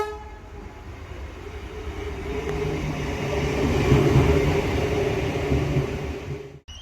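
A train rumbles at Port Adelaide railway station in Adelaide, a sustained low roar and rolling rail noise that swells in the middle and then cuts off abruptly, with no voices.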